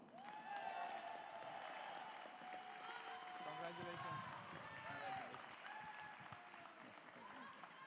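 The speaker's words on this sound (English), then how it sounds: "Please give a warm applause to Akshay Kamath." Faint, distant audience applause at a Konkani Sammelan award ceremony, a continuous soft patter of clapping beneath voices and tonal sounds.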